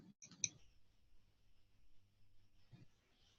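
A computer mouse clicks twice in quick succession in a quiet room while browsing a library catalog, the sharp taps followed by faint low background hum.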